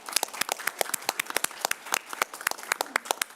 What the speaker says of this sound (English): a round of applause for an appreciation of the hard work of our educators in Victoria and across Australia and beyond